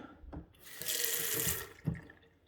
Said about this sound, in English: I can throw it all the stones in this container and rinse it with the tap